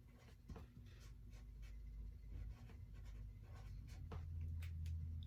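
A marker writing on a label for a homemade gel hand sanitizer bottle, soft scratchy strokes in short bursts over a low room hum, close and faint.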